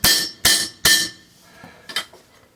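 Three sharp, loud hammer whacks land in quick succession on a bicycle headset being pressed in with a Park headset tool, each with a bright metallic ring, followed by two fainter taps.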